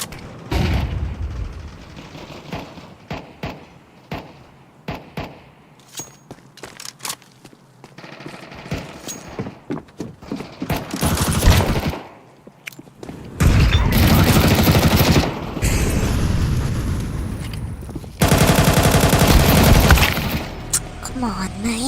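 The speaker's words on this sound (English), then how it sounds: "Throwing a decoy." Bursts of fake gunfire from a decoy grenade in a tactical shooter match, rapid loud volleys rising after quieter footsteps and scattered shots, with long dense stretches of automatic fire near the end and a voice talking at times.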